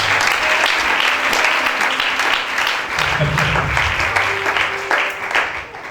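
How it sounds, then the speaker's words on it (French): A church congregation breaks into applause during a sermon, a loud continuous wash of many hands clapping, with brief voices and a low hum underneath. "Applaudissements."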